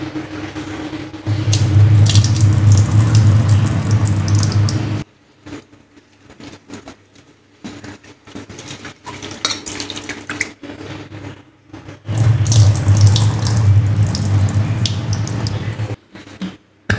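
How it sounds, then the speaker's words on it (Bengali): Tap water runs loudly into a kitchen sink while mung dal is washed, in two long gushing bursts separated by quieter sloshing and dripping as the lentils are rinsed by hand. "মুগ ডালটা আমি ধুয়ে নেব ভালো করে।"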